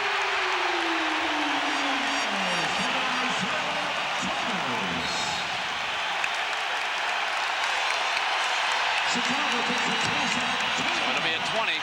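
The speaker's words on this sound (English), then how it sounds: "Here comes the crowd" Arena crowd roaring continuously at a 1989 NBA Eastern Conference Finals game between Chicago and Detroit, a dense, loud wall of cheering that swells steadily with a play-by-play voice talking over it.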